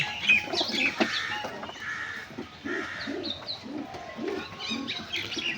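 A pair of pigeons being shown for sale coo in a steady run of low, throaty pulses, with higher chirps and calls from other birds nearby.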